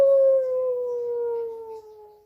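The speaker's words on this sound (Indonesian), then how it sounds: "serigala biru mendengar kawanan serigala lain melolong" A wolf lets out one long, loud howl close by, a steady tone that slides gently downward and fades over about two seconds, with no other sound around it.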